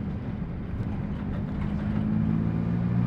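A turbocharged K23-swapped Honda Civic EG engine running at lower RPM, a low steady rumble close by that grows slightly louder and deeper near the end.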